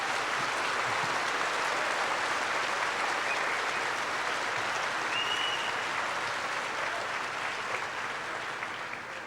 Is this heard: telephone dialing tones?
no